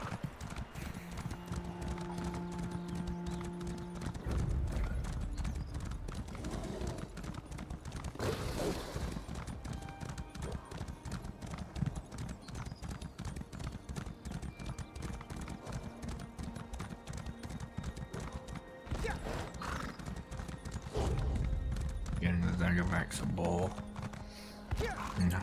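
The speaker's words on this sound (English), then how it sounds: "This horse and cart will get us to Blackwood" Steady clip-clop of a horse drawing a cart in the Elder Scrolls Online game, rhythmic hoofbeats running throughout with creaking and a brief whinny, a voice talking faintly at times.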